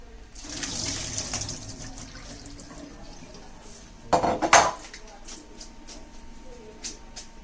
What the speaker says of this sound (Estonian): Mina seda teha ei soovi, seetõttu kurnan selle kraanikaussi.